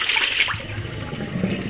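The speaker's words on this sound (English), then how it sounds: "we're going to just discard the water" Water being poured out of a bowl after cooking, a continuous splashing pour that tapers off over a couple of seconds.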